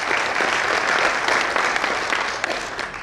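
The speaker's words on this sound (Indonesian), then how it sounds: "Kita berikan aplaus." An audience at a business and logistics forum claps steadily, a dense, loud wash of applause that holds evenly for a few seconds, with no one speaking over it.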